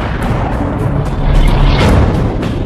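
A deep, continuous roaring explosion effect for an exploding star rumbles loud and steady throughout, dense low-end boom swelling slightly midway.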